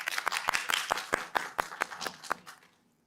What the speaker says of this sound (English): Let's give it a round of applause also.